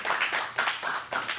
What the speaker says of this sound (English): Let's give him a clap.